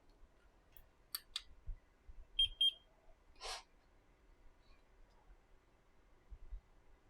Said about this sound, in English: Don't think there's a way to turn off the beeping on this thing.